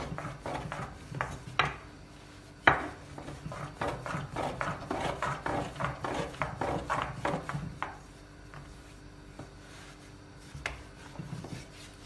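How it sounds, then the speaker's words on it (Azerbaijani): Kneaded dough for Balakan xəngəl, an Azerbaijani dish, rolled out on a floured wooden board: a run of close, rhythmic rolling and rubbing strokes that fades to quieter scattered handling near the end, with no talking. "Kündəni götürüb un taxtanın üzərinə un əlavə edirəm və yoğurduğum xəmiri yaymağa başlayıram"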